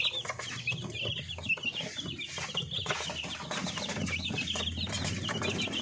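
Native chicken chicks around 20 days old peep constantly in a dense, high-pitched chorus, with overlapping chirps running throughout and some low background noise underneath.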